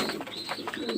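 King pigeons coo close by in a steady, soft, throaty series of repeated calls with no talking.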